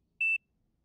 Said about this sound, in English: did you hear that beep?